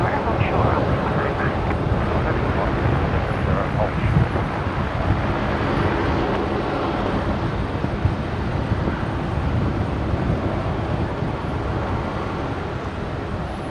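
Jet airliners taxi at Brisbane International Airport, a steady broad engine roar holding level and continuous throughout with no talk over it.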